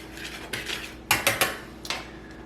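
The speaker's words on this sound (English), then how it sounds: "Whisk it together real quick." Flour, baking powder, sugar and salt being whisked together in a bowl, a few quick clinking metal strokes against the bowl in a short burst, close and fairly quiet, with no talk.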